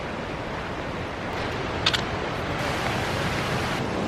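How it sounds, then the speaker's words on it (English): Waterfall in Yosemite National Park, heard in the dark before dawn as a steady, distant broadband roar that runs unbroken throughout, with one tiny click partway through. "I can hear a waterfall."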